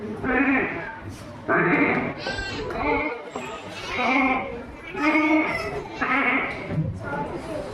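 At a school inter-house cultural competition, someone mimics a lamb's bleating with a string of wavering, nasal baa calls, loud and close, with brief pauses between them.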